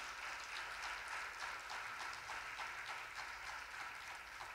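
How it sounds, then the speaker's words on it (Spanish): Church congregation applauding during a Spanish-language worship service, a steady, dense wash of clapping that fills the whole stretch at a fairly distant, even level with no talk over it. "Dele palmas fuertes al Señor."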